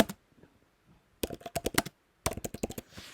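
C++ code being typed on a computer keyboard: two quick clattering bursts of close, crisp keystrokes separated by a short pause, with no talking.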